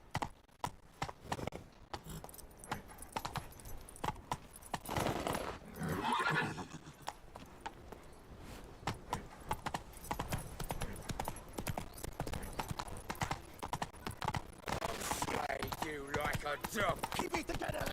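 The horse Roach gallops with quick steady hoofbeats and lets out a neigh midway in the video game The Witcher 3, amid game ambience and occasional talk.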